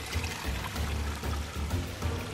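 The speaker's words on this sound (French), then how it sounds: "je remplis ma gourde" Water splashing and gurgling as a drinking bottle is filled from a stream while hiking in the Vosges mountains, a close, steady burbling pour lasting a couple of seconds with no talk.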